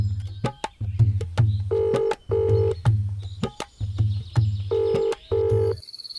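Touch-tone telephone keypad beeps as a number is dialed: about a dozen short, evenly paced tones of varying pitch, clear and close, ending with a brief higher electronic tone.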